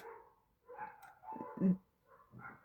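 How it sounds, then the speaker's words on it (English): A dog barks outside a few times at moderate distance, with short irregular barks and a louder bark near the middle. "Yeah, the dog's barking outside."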